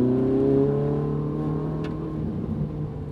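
A Ferrari driven around the Fiorano test track, its engine holding a steady, droning tone from inside the car with only slight variation in pitch.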